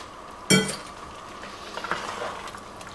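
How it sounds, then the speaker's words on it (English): A utensil clinks sharply against a pot while beef and its juices are stirred, one loud metallic knock followed by softer scraping and a few light taps. "Give it a good stir through."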